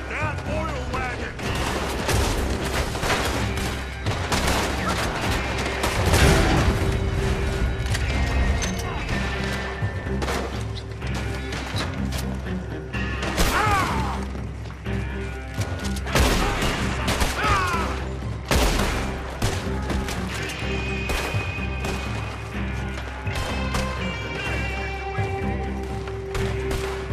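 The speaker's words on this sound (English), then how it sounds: "Shoot that oil wagon!" Sustained gunfire aimed at an oil wagon in Red Dead Redemption 2, loud bursts and volleys of shots over a busy battle din with clanking mechanisms, continuous for the whole stretch.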